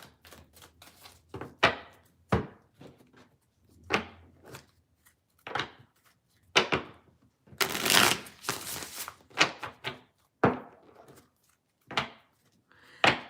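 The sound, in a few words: shuffling cards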